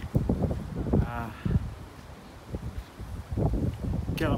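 Strong wind buffets a bare camera microphone at a cathedral churchyard, a low rumbling roar that surges and dips in heavy gusts, with someone talking through parts of it.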